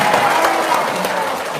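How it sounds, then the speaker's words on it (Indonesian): Dense crowd clapping at an Indonesian stage event with a comedian, a loud, continuous wash of applause and cheering that fills the space and tapers slightly toward the end. "Sekali lagi dong tepuk tangannya."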